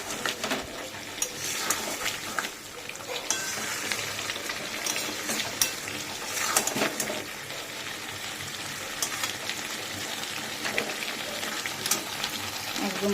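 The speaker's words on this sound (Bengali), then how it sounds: "মাছটা মশলার সাথে কষিয়ে নিই," Fried fish is stirred with spices in a hot pan, a continuous sizzle broken by scraping strokes and clinks of the spatula against the metal, with faint talk now and then underneath.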